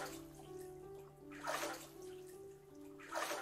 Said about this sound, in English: That is a very small amount of water they're splashing in to make this noise.